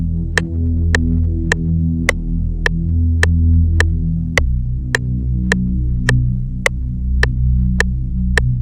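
In an FL Studio beat a deep bass holds two long sustained notes under a clicking tick that keeps an even pulse, with no voices.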